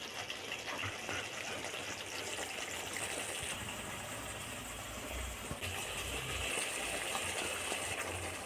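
Tamarind gojju masala for chitranna boiling in a pan with oil rising to the top, a steady dense bubbling and sizzling hiss that stays constant and close throughout, with no talk over it.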